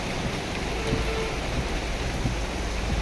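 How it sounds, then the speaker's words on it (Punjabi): First rain of the season falls steadily on a flooded road outside a tehsil complex, a dense, even wash of rainfall with no distinct events. "ਇਹ ਮੌਸਮ ਦੀ ਪਹਿਲੀ ਬਰਸਾਤ ਹੈ"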